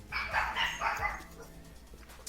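A dog barks a few times in the background in a home, several quick yaps at moderate distance over the first second or so, then a quieter lull with faint noise.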